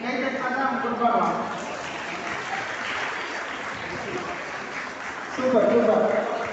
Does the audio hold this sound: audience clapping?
yes